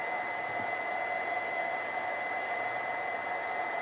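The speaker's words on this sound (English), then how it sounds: "So now I'm going to dry it a bit with the heat gun." A heat gun blows steadily over a mixed-media craft piece, a continuous loud whooshing hiss with a fixed whine that holds level throughout, no voices over it.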